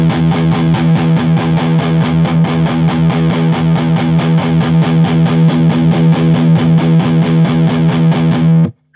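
Heavily distorted electric guitar chugging through a Blackstar HT Studio 20 amp set to high gain, steady palm-muted rhythm repeated loud and close for about nine seconds as the ISF control is turned, then cut off.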